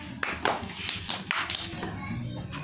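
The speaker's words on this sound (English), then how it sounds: "Clap now." A group of children clap their hands together in a classroom, a handful of sharp claps in an uneven rhythm with some background voices.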